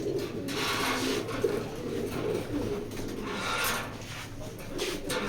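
Racing pigeons of a good breeding line, cocks kept in a loft, cooing in low soft repeated murmurs amid a busy background of fluttering and other birds, with no talking.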